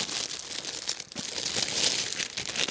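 Close, continuous crinkling of a small plastic bag being handled, with uneven rustles and crackles for a few seconds.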